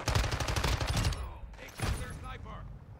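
A rapid, close burst of MX9 submachine gun fire in Modern Warfare II multiplayer rattles out for about a second, followed by a couple of fainter shots and talking.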